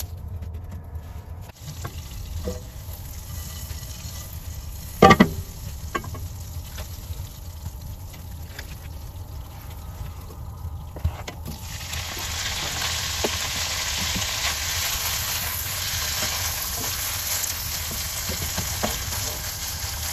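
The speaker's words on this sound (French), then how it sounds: "Ça mijote tout doucement." Saç kavurma meat cooks in a wok outdoors in a garden, giving a continuous soft sizzle and bubbling that swells slightly in the second half, with one sharp clink early on.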